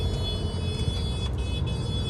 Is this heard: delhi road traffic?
yes